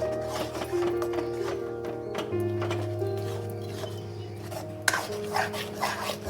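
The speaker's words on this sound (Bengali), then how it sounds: "এটাকে আবার আমি নাড়িয়ে নেব।" A spoon scrapes and rubs around a pot of spiced dal for mutton haleem, producing repeated rasping strokes with occasional light knocks against the metal, close and steady over a faint background hum.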